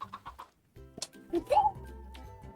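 Game-style chicken clucks, a few short bursts and a rising squawk, mixed with electronic tones and soft background effects.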